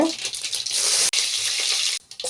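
Hot oil sizzles loudly as a spoon of tempering seeds and curry leaves crackle in it, a dense steady hiss with a brief break midway and another near the end.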